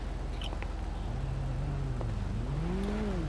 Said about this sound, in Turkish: Ege bu araba çok iyi ya.